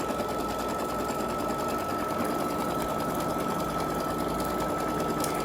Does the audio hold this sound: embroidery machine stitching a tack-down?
yes